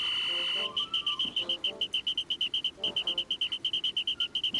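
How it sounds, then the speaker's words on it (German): A high electronic whistle from the video game Pikmin 4 holds steady for a moment and then breaks into a rapid stream of short repeated chirps, loud and shrill, over faint game background noise. "Ich werde mir so auf die Nerven gehen und die ganze Zeit einfach pfeifen."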